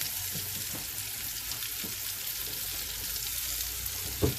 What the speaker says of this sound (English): I put a little bit of the grease from the peppers earlier in with the onions.